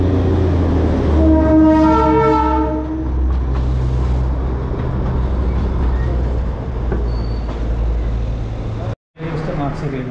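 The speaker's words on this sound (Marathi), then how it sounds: "रेल्वे आली, रेल्वे" A train rolls past with a loud, steady rumble and clatter. Early on, a horn sounds in a sustained tonal blast, then the noise cuts out briefly near the end before resuming.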